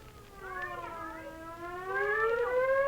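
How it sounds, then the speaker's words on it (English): Air raid siren in a radio drama, a wailing tone with layered pitches sliding upward and swelling steadily louder over a few seconds, heard alone. "There's the siren, the signal."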